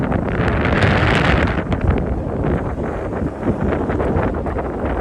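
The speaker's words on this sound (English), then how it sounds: "I know it's windy" Gusting wind buffets the microphone on a street in Tokyo with loud, low rumbling roars that swell and ease, with no one speaking.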